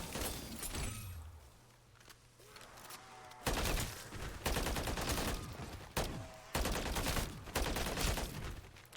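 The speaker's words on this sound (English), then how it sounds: "enjoy using our new pack-punch gun to take care of these lower tier zombies" An upgraded Pack-a-Punch gun fires in the zombies mode of Call of Duty: Modern Warfare III, rapid bursts of loud gunfire in several clusters separated by brief quieter gaps, with a low hum early on.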